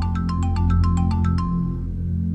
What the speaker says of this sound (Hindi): सैफी मोमानी की कॉल आ रही है